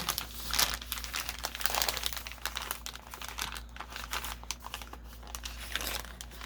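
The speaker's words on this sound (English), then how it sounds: "So I want to fold it." Paper being folded by hand while crafting a sunflower-themed guestbook, with steady close crinkling and rustling that runs on for several seconds and no talking.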